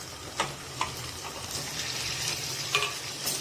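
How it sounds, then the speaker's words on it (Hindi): Mutton pieces fry with onion and ginger-garlic paste in a pot, giving a soft continuous sizzle broken by several scraping clinks of a spoon stirring, close and moderately quiet. "थोड़ी देर के लिए इसे फ्राई कर लेना है ताकि गोश्त की स्मेल खत्म हो जाए"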